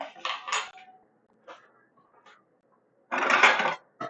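Ceramic plate and knife clatter against other dishes in a kitchen while burgers are assembled, with a few short knocks early on, then a louder burst of dish rattling near the end, no talking.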